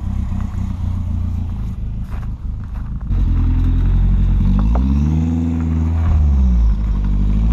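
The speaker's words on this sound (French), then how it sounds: "je sais pas si on entend à la caméra, mais on l'entend le turbo" A BMW 318is fitted with a turbo and running without an engine map idles close by with a loud, steady rumble, then lifts into a rising, sustained turbo whine and spool over the engine note.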